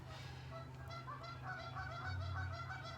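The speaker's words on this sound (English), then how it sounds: "Oh, it's the Canadian geese, look." A family of Canada geese honks repeatedly outdoors, a steady overlapping chorus of calls at moderate distance over a low background hum.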